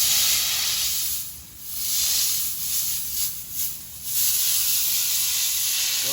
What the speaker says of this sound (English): right now I'm just using compressed air between 30 and 40 psi